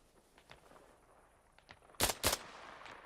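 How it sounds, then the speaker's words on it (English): Two sharp, close bursts of airsoft fire cut through a quiet outdoor milsim game, preceded by fainter distant pops and rustling. "I think that somebody's shooting towards me"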